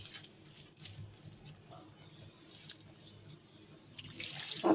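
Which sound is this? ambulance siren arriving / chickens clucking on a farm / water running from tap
water running from tap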